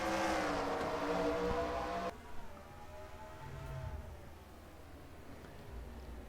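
Race cars at Watkins Glen in a racing simulation whine past with a loud, rising engine drone that cuts off abruptly, then fainter car engines trail off with a descending pitch in the distance.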